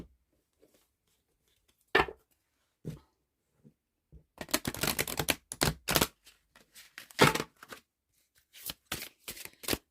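A deck of oracle cards shuffled in quick bursts of riffling and slapping, starting with a few isolated taps and building into dense, close, crisp flurries with short pauses between them, no voices present.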